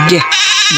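A single nasal bleat from a goat, loud and close, with a synthetic, game-like tone, followed by a sustained wavering cry.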